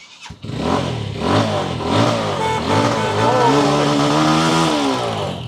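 A Yamaha R15 motorcycle engine revs up and down repeatedly, loud and close, its pitch rising and falling with each throttle burst.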